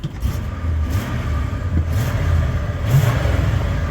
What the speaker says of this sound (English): But anyway, I got my truck running.